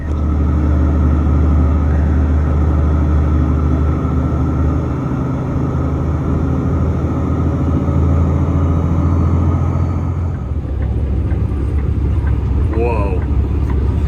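An over-the-road truck with a 13-speed transmission drones with a loud, steady low engine rumble, and its tone shifts and thins partway through as the rig gets rolling toward a landfill.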